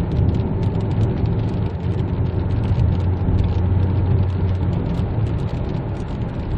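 A Pengon iX5 car with a 1.5-litre gasoline turbo engine accelerates hard on a road, heard from inside as a steady, loud engine and road roar with no talk.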